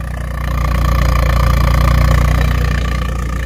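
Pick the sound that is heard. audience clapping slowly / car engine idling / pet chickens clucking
car engine idling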